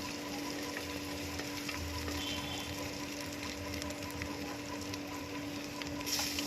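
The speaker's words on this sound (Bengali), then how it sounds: "পেঁয়াজটা যখন হালকা লাল ভাজা হয়ে যাবে তখন আমি দিয়ে দিলাম 1 চামচ আদা রসুন বাটা।" Sliced onions fry in a pan with ginger garlic paste for mutton keema, a faint, steady sizzle under a constant low hum, with no voices.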